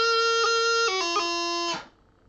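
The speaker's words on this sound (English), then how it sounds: "you get the grace note late and you do the note change before the grace note" Solo bagpipe phrase from The Golden Wedding in Madeira where the melody note changes first and the G grace note comes late, giving a brief stuttering blip within the sustained reedy tone before it stops.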